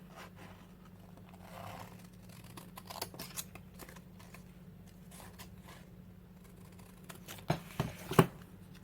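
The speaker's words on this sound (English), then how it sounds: "I can probably use just scissors" Scissors snip through paper for an art journal collage in a quiet room, producing soft scattered cuts and scrapes over a low steady hum, ending with a few sharper, louder snips close by.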